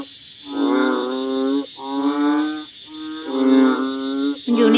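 A frog calling loudly from inside a burrow after rain, giving four long, droning, buzzy croaks in a row with short gaps between them, close and clear with no talking.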